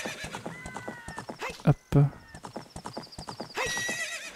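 Epona, the horse in Zelda: Ocarina of Time, gallops with rapid rhythmic hoof clip-clops and gives a loud whinny partway through, while a person talks over the hoofbeats.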